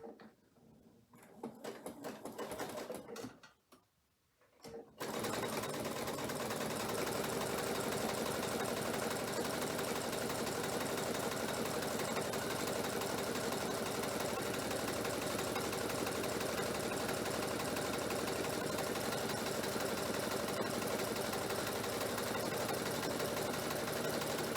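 A sewing machine runs a continuous zigzag stitch while piecing diamond quilt blocks, a steady close whir that starts after a few seconds of handling noise and carries on alone without pause.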